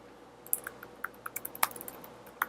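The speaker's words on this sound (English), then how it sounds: "Just type in the name that you want it to link to and the address and hit Create." Typing on a computer keyboard: a brisk, uneven run of light key taps with one heavier keystroke, close and clear over a quiet room hum, with no talking.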